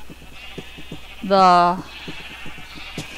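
A Minecraft sheep gives one loud, wavering bleat on a farm pen, close by, with rhythmic footstep-like ticks and a voice speaking around it.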